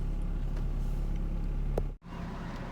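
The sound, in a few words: Saturn SC2 car driving down the road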